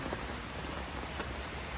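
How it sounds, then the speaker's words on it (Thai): Heavy rain pours down in a dense, steady hiss, loud and continuous throughout without any letup, with no voices. "ฝนเทลงมา เทลงมา เทลงมา"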